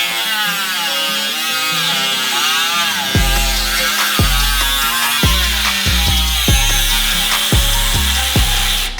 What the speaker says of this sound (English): I'm just gonna cut them all off. So that way we can have the clearance needed for our intercooler